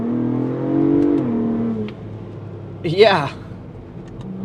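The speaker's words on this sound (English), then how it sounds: "especially when you put it into Baja mode and you rev it out." A 2025 Ford Bronco Raptor V6 engine revs in Baja mode, a rising and falling rev heard under someone talking, with a steady engine rumble throughout in cold winter testing conditions.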